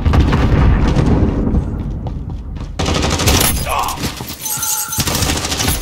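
Loud, close blasts from a VLK shotgun loaded with Dragon's Breath incendiary rounds in a video game, each shot booming with a crackling, fiery tail, followed by a short pause and a second burst of fire and impacts.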